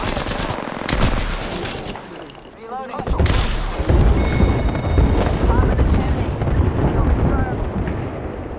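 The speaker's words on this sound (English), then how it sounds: "That's my airstrike?" Airstrike explosions and rapid gunfire in Apex Legends boom and rattle continuously, loud and dense, with a player talking over the battle noise.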